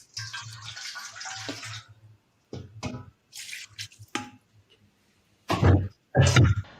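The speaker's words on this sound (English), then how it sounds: "Add a little bit of water." Water poured into a pressure cooker while making soup with beef brisket, soy sauce and sesame oil, heard as a close, steady splashing stream that stops and returns in short bursts, with brief talk between them.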